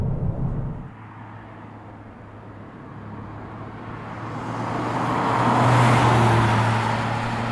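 A 2023 Toyota GR Corolla Core three-cylinder hot hatch drives through a corner, its engine note and road noise heard from inside as a steady hum that rises and swells as it accelerates.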